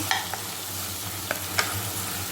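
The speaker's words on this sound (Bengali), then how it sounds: "আর এখানে টমেটো পেস্ট দিয়ে ভালো করে তেলের মধ্যে মিশিয়ে নিচ্ছি।" Ginger paste, onion paste and tomato paste stirred into hot oil in a pan, giving a steady close hiss of frying with a few brief scrapes of the spoon and no voices.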